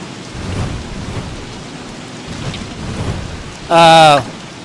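Steady rain hiss with low rumbling throughout, then a brief bright tonal chime-like burst near the end, in the video game Don't Starve.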